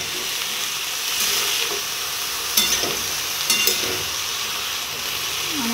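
Cabbage and potato fry over a raised gas flame in a pan, a loud continuous sizzle and hiss with a couple of sharp utensil scrapes midway.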